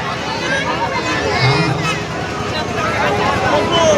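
A packed pandal crowd at a katha religious gathering, a dense steady hubbub of many overlapping voices filling the space throughout, with no single voice standing out.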